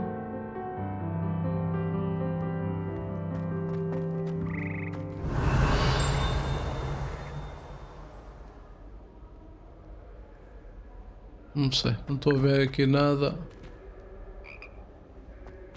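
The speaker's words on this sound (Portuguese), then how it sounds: "Ouvi sapos." Frogs croak in the Hogwarts Legacy video game, a steady chorus of calls over a game soundscape, interrupted by a brief whoosh and a short burst of louder effects, with someone speaking quietly in Portuguese.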